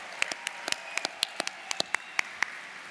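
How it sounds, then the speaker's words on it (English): A small number of scattered hand claps ring out in a ballroom during an awards ceremony for honorees, about a dozen sharp, separate claps over a few seconds, fairly quiet and irregular. "Let's give all of our honorees a huge round of applause and make some noise in this ballroom tonight."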